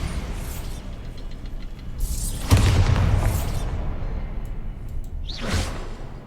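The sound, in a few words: Bombarda spell explosion in a video game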